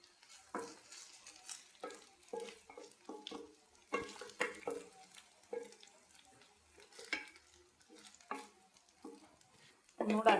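A carrot and wheat flour snack fries in a pan, with a soft sizzle under repeated scraping and tapping as the pieces are turned, ending in a louder clatter.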